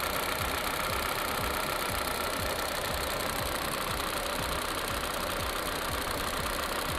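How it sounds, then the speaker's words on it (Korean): A Kia All New K3 Trendy compact sedan idles with its hood open, a steady, even engine hum with a fine rhythmic ticking underneath, close and continuous with no talk. "엔진 소리 일정하네요."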